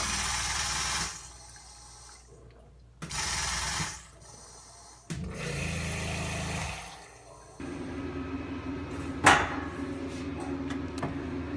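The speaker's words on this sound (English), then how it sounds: "Water pump on." A grooming van's water pump and sudsor switch on and off several times in bursts, then a steady pumping hum with running water settles in, loud and close, inside a 2004 Ford E-450 mobile pet grooming vehicle.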